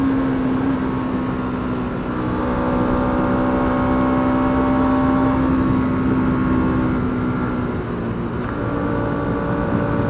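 A 2025 Bajaj Dominar 200 motorcycle climbing a mountain road uphill, its engine droning loud and close with a steady tone that rises, then briefly drops around a gear change near the end, with no talk.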